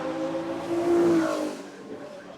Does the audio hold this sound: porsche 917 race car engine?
yes